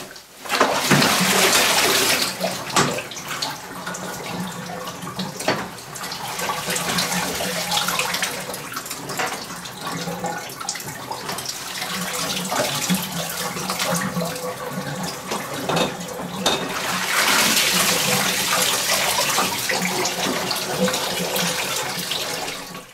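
Water pours steadily into a bathtub while a backpack is rinsed with cool water, a continuous close hiss and splash that swells louder near the start and again toward the end, with no talking.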